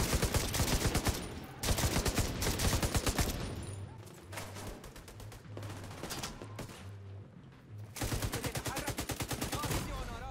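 Gunfire in the video game The Division 2 comes as loud, rapid repeated shots in long bursts with a short, quieter lull in the middle, and a voice can be heard faintly underneath.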